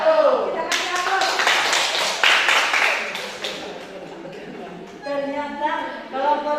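A group of people claps after a group presentation, with the applause strongest in the first few seconds and thinning toward the end while voices talk over it.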